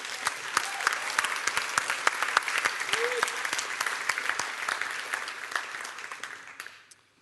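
Audience applause for seven hackathon winners at a MyData 2016 event, a burst of clapping from a crowd in a hall, dense and steady before tapering off at the end.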